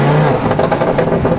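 Close, loud Lamborghini supercar engine pulling hard under acceleration, a brief surge with rising engine tone and no voices.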